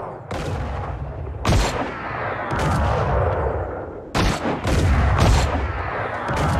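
Gunfire in the video game Creative Destruction, loud sharp blasts in bursts, two early shots followed by a tight cluster of repeated booms, over a busy background din.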